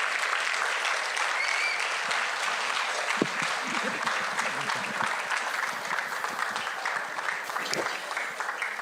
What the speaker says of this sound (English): let's continue to clap